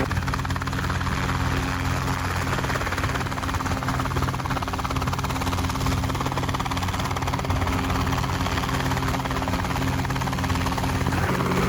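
A Rotorway helicopter flies over an airfield strip, its rotor and engine drone steady, loud and continuous throughout with no voices.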